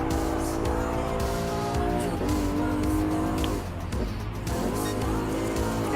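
Racing car engines, including a Ferrari F40 chasing a Porsche 911 GT3 RS in Gran Turismo Sport, roar loud and sustained at high revs, with shifting pitch and brief tire squeal.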